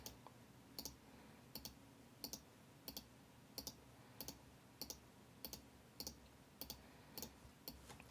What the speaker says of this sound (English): I'm going to right click, select Copy, and then paste 6 more times